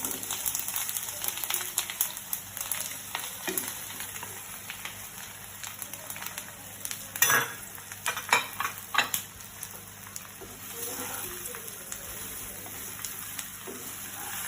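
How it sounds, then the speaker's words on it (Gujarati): Ragi muthiya being tempered and stir-fried in a pan, with a soft steady sizzle under intermittent scraping and clattering stirring strokes, a few sharper knocks near the middle. "ત્યારબાદ આ રાગી મુઠિયાને વઘારીશું."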